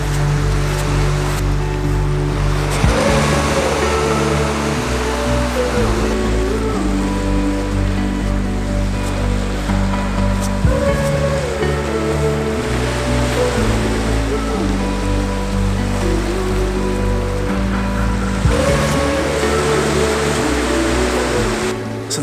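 Sea waves wash around coastal rocks at Low Hauxley, Northumberland, as the tide comes in, a continuous loud rushing surf with periodic surges and swells of broadband water noise.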